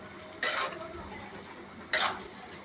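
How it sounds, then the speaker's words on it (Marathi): A spatula stirs masala ridge gourd curry in a metal pan, two distinct scraping clanks about a second and a half apart over a faint low sizzle, close and with no voices. "त्यांना पुन्हा हलवणार आहोत सगळ्यांना हे पुन्हा असं हलवून घ्यायचं"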